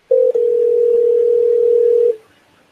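A computer's audio-settings test sound plays as one loud, steady pure tone, held for about two seconds after a brief stutter at the start, then cut off.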